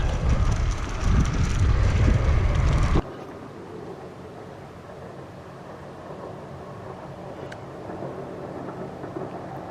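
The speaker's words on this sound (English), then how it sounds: "Oh, there goes the train." A loud, heavy rumbling roar of a passing train fills the first three seconds, then cuts off abruptly, leaving a quieter steady background hum.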